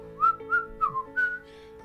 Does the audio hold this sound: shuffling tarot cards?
no